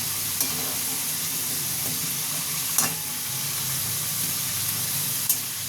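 Potato pieces fry in hot oil in a pan for a vegetarian dish made without onion or garlic, giving a steady close sizzle with a few sharp crackles and stirring scrapes.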